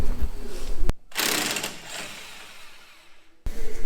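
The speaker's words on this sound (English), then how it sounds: "So Tom, why do you use a corded impact wrench?" A corded impact wrench works on a combine corn head in a shed, letting out a sustained, loud, buzzing whir of about two and a half seconds between shorter mechanical noises.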